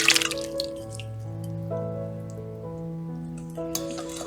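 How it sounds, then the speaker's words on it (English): A cup of melted unsalted butter is poured into a bowl of sugars and maple syrup, making a soft, close, continuous liquid trickle with faint drips and no talking. "Let's add in a cup of melted unsalted butter."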